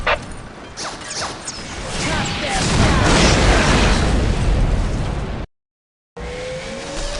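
Whirlwind missile battery firing in Warhammer 40K: Dawn of War: a mechanical clatter builds into a dense roar of launching rockets and booming impacts, heard under a voice, then breaks off in brief silence before resuming.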